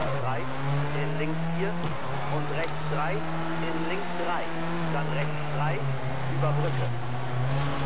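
A Ford Fiesta R2 rally car engine in WRC 4 hums steadily at a constant low pitch on a Spain rally stage, with small revving fluctuations and faint tire noise, running continuously beneath a voice.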